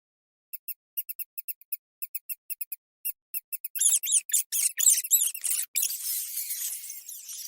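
High, thin squeaks chirp in quick irregular bursts, then build into a dense chorus of overlapping shrill squeals, like several rats squeaking close together.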